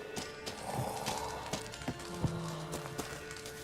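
Hooves from a horse in The Witcher 3 clip-clop in an irregular trotting rhythm over a low ambient bed, with a few sharper taps and a faint snort-like tone mixed in.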